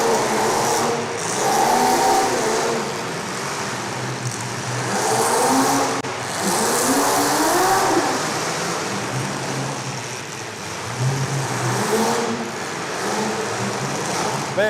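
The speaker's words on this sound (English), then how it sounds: "Richards is just wheeling that thing for what he's got, getting it spun around" A demolition derby car with a loud engine revving and surging as it spins around, a continuous close roar rising and falling in waves, with crowd noise underneath.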